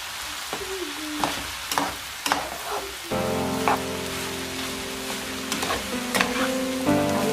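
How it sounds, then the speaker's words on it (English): Rice frying in a pan for Nigerian fried rice, a steady sizzle punctuated by sharp scrapes and clinks of a spoon stirring against the pan. "Then fry it together for like 2 minutes now"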